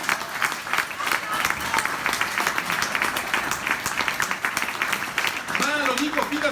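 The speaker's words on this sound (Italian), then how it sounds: "il capolista Carlo Calenda, già adesso un bel applauso." An audience at a political rally for a European election campaign bursts into sustained applause, a dense crowd clapping steadily throughout with some voices mixed in.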